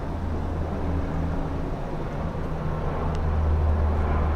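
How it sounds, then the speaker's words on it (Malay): Steady low rumble of an airplane flying overhead during an indoor religious reading, a continuous droning hum that holds at moderate loudness throughout with no talk. "Minta maaf ada bunyi kapal terbang."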